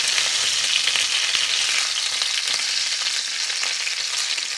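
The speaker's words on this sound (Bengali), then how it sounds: "বাকি উইংসগুলো আমি এভাবে ফ্রাই করে নিচ্ছি।" Sweet chilli chicken wings frying in hot oil, giving a steady, dense, close sizzle and crackle that holds evenly throughout with no voices.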